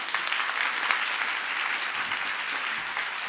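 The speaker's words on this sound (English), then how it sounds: "I would like everyone to give the wonderful panelists today a huge round of applause." Audience applause for panelists at a science summit session, a steady dense wash of clapping from a large crowd, evenly sustained for a few seconds with no talk over it.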